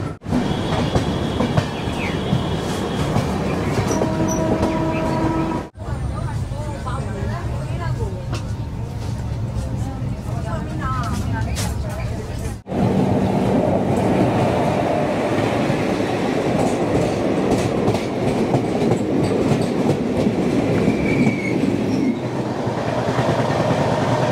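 A long-distance passenger train from Kolkata to Jaipur rolls along with a steady rumble and rhythmic wheel clatter, heard from inside the carriage, with people talking over it and two abrupt breaks.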